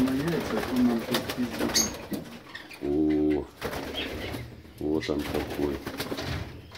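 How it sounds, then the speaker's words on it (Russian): A large Alexandrine parrot gives two loud, harsh, harmonic squawks a couple of seconds apart, close by, with people talking before, between and after the calls. "Очень большой попугай"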